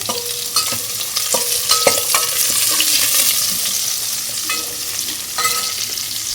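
Shallots, garlic and slit green chillies frying in hot oil for a fish curry, a loud close sizzle broken by repeated sharp clinks and scrapes of a spoon stirring the pan.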